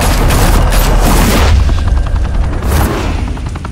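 Gunfire in the Batman: The Telltale Series video game, loud booming shots and rapid bursts close up, merging into a dense roar over a few seconds.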